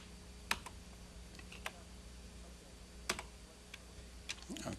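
Sparse, crisp key clicks are tapped on the small keyboard of an early speech synthesizer computer. They come one at a time with long pauses between presses over a quiet hum.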